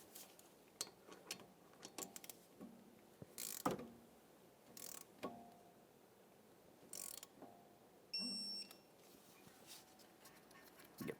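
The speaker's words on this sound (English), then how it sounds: "I'm going to be torquing this to 25 foot-pounds. Now I've got my torque wrench here." A torque wrench tightening a brake caliper bolt to 25 foot-pounds on a 2014–2019 Toyota Corolla in a garage, with scattered quiet ratcheting clicks and metallic knocks spread across a mostly hushed stretch.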